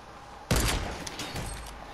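Sudden loud burst of rapid gunfire from a Fortnite match, a dense fusillade of close shots that begins abruptly and continues in uneven volleys.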